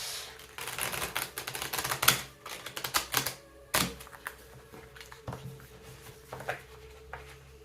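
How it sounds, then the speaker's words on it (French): New, stiff tarot cards being shuffled by hand, irregular bursts of papery slaps and riffles with sharp clacks, close and dry, with brief pauses between handfuls. "Alors, elles ont du mal à se mélanger, ces cartes. Elles sont neuves."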